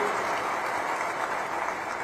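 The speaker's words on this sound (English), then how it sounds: "a big round of applause for our chief guests who have joined us today morning." Sustained audience applause at the inaugural session of an international conference, a dense steady wash of many hands clapping at close range for the chief guests, with no pauses or talking.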